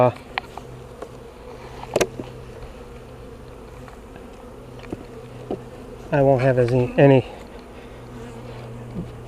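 Honey bees buzz steadily around a hive close by, with a few sharp, louder buzzing passes near the end over a faint background hum.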